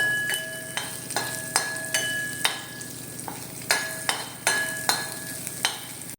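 A jackfruit cutlet mixture sizzles as it is sautéed in a pan, and a spoon scrapes and stirs it in regular, sharp strokes about every half second over the steady frying hiss.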